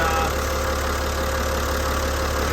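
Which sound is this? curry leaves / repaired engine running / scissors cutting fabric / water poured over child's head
repaired engine running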